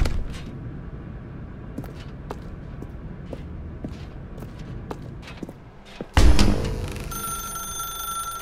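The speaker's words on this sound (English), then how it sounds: "Now pick up the phone" A telephone ringing in the video game The Stanley Parable: Ultra Deluxe, after several seconds of quiet footsteps and small clicks; then a sudden loud, bright electronic ring with a sustained tonal buzz.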